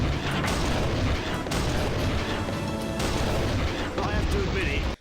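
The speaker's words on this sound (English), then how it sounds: "I like watching things blow up" In the video game Armed and Dangerous, a blast destroys a prison gate, a loud, dense rumble of explosion and gunfire that stays heavy and continuous before cutting off abruptly.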